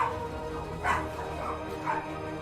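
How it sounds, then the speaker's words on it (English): A video game dog barks twice in short yips, roughly a second apart, over a steady background hum. "The dogs are barking."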